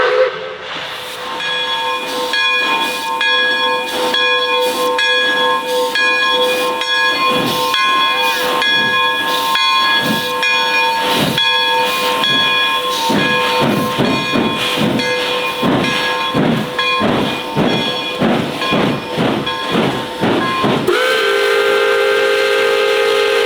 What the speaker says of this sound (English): a very special steam locomotive for this time of year